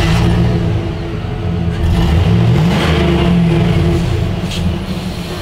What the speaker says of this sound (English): You hear that LS power.